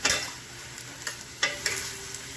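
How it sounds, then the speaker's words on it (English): Six medium zucchini sautéing in a pan over medium-high heat hiss with a soft continuous sizzle, broken by a handful of sharp utensil clicks and stirring scrapes, close and moderately quiet, with no talking. "And now I'm going to saute"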